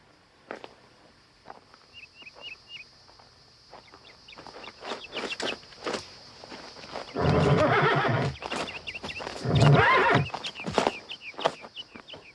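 A horse in a cowboy movie neighs loudly twice, with hooves clopping and shuffling nearby in between, plus scattered faint bird chirps.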